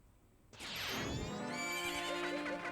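Epona, the horse in the N64 game Zelda: Majora's Mask, lets out a loud, sudden whinny that breaks the quiet and descends in pitch, followed by game music tones.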